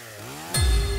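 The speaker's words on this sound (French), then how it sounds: "c'est une tronçonneuse ça?" A chainsaw engine revs, its pitch rising, then jumps to a louder, rougher roar close by.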